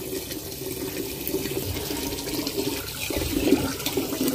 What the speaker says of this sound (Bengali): এখন হচ্ছে চালটা ধুবো, বেসিনে চালটা ধুয়ে নি